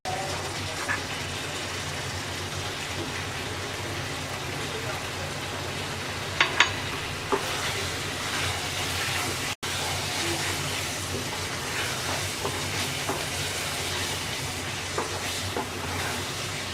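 Sweet hog plum chutney cooks in a pan with a steady, dense sizzle and bubbling that runs evenly throughout, with a few small clicks and one brief dropout partway.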